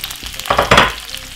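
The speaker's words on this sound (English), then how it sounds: "I'm gonna simply pop my veg straight inside of it because my frying pan is probably pretty bit hot now" Vegetables frying in a hot frying pan give a close hiss, with a brief stirring scrape in the middle and no voices.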